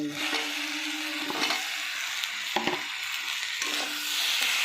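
Pekal fish, rinsed and rubbed with salt and turmeric, frying in oil in a wok, with a steady close sizzle and a few sharp clatters of stirring or turning.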